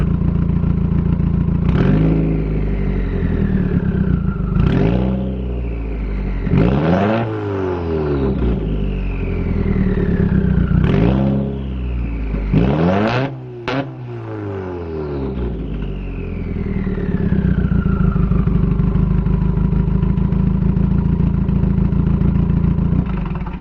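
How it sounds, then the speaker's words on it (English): A 2017 Subaru Forester XT fitted with a Tomei titanium exhaust idles loudly close by, then is blipped through about five sharp revs that rise and fall back before it settles into a steady idle, with no talking. "we're going to wait a little bit, let it warm up a little bit more, and then we're going to give it a couple of revs"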